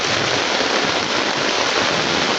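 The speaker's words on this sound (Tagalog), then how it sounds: "tumina na yung ulan pero lumakas na naman siya" Heavy rain pouring steadily during flooding, a dense, loud, even hiss of downpour with no voices.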